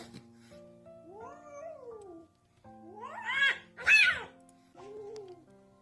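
Cat meowing and caterwauling in long drawn, wavering yowls, several rising and falling calls in sequence with a louder, harsher pair in the middle, fairly close and clear.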